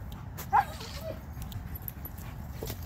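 A Cane Corso at a dog park gives one short, sharp whine at a treed squirrel, followed by faint, quieter whimpers over steady outdoor background noise.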